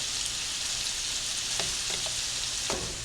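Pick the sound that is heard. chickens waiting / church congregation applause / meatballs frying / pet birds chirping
meatballs frying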